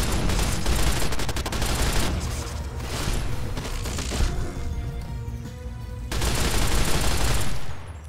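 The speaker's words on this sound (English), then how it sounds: "looks like I get to shoot more stuff then" Sustained automatic gunfire in Fallout: New Vegas, a dense continuous fusillade of rapid shots that eases in the middle and returns loud near the end before cutting off.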